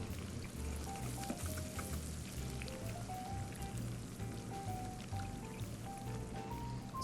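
Leeks fry in oil in a pan with a soft, continuous sizzle and scattered light pops, fairly faint and steady throughout.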